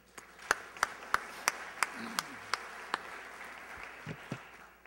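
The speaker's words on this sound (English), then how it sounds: "let's give them a round of applause" Sparse, faint clapping from a small audience at a sponsored conference-style event: about a dozen distinct, sharp claps spaced irregularly over a few seconds above a low room murmur.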